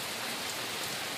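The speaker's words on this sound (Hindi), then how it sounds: "बारिश ज्यादा रहता है, अभी आज चालू हो रहा है।" Steady rain falls on a hill station at Matheran, India, a dense continuous hiss that stays even and close throughout with no voices.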